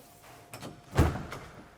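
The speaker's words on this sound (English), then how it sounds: "Let's just close that door" A door pushed shut with a soft thud, faint rattles before and after, in a quiet room.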